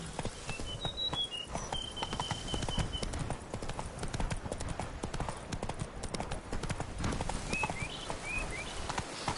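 Galloping horse hooves in a PS4 video game make a fast, continuous clip-clop that stays close and steady, with short whistling chirps now and then above the drumming.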